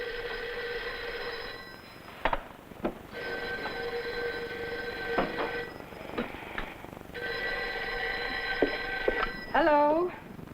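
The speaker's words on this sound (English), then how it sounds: "there's the phone." An old-fashioned telephone bell rings in repeated long bursts separated by short pauses, loud and close in an indoor scene, with a few brief knocks and voices in between.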